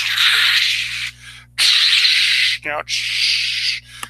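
A voice imitates Axe body spray spraying with long hissing bursts, three sustained sprays separated by a short break, loud and close.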